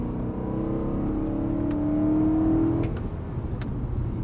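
BMW M3 E92 V8 pulling out of a corner on a race circuit during a driving course, its engine note climbing steadily for a few seconds before dropping off as the car settles, heard from inside with no talking.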